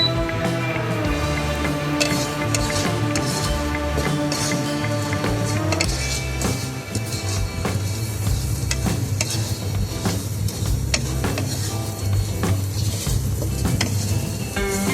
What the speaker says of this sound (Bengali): লঙ্কার গুঁড়ো, কাশ্মীরি মির্চ, হলুদ গুঁড়ো, জিরের গুঁড়ো, ধনের গুঁড়ো সব একসাথে দিয়ে আমি একটু ভাজা ভাজা করে নিচ্ছি